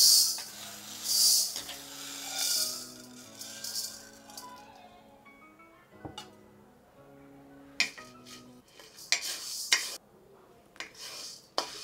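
Moong dal roasting and being stirred in a pan: a spoon scrapes and rattles against the metal, dry grains skitter and rustle, with scattered sharp clinks and sparse tonal kitchen sounds in the background.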